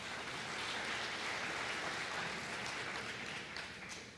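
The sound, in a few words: audience applause for Anne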